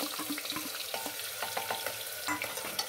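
Onion and garlic paste fries in a pan on a low gas flame, a soft steady sizzle broken by repeated scraping and clacking from a stirring spoon, close up with no voices.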